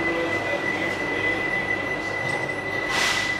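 Vande Bharat Express 22896 running from Puri to Howrah, heard from inside a coach as a steady, loud rolling roar with a sustained high wheel squeal and a brief swell of hiss near the end.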